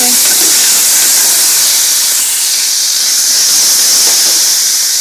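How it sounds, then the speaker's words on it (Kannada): Ginger garlic paste frying in a pan for a Raichur-style brinjal sambar, giving a steady, loud, bright hiss that runs unbroken throughout with no voices over it. "ಚೆನ್ನಾಗಿ ಇವಾಗ ಫ್ರೈ ಮಾಡ್ಕೋಬೇಕು"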